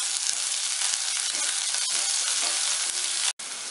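Onions and green chillies fry in a pan with a loud, dense, continuous sizzle heard up close, broken only by a brief dropout near the end.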